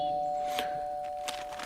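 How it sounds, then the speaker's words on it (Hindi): A doorbell rings twice inside a cartoon home, two bright chimes about 0.7 seconds apart over a steady tone, with no talking. "तभी दरवाजे की डोरबेल बजी।"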